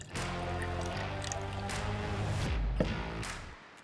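Water poured into a small blender for al pastor marinade, a soft liquid trickle with a few squishy splashes, faint and close, ending after a few seconds.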